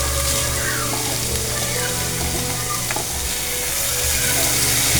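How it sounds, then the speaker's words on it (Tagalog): Shredded chicken with onion and garlic is stirred in a hot pan for pastil, a loud continuous sizzle and frying hiss with scraping stir movements throughout. "inimay natin chicken. Tapos halo-haluin."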